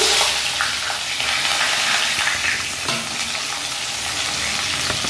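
Medium-sized ridge gourd, cut into long pieces, frying in a pan over a high flame gives a loud, steady sizzle and crackle, with brief stirring scrapes, and no talking.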